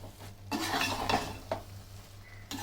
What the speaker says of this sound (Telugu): రైస్ వేసుకున్నాక తిప్పుకోవాలి.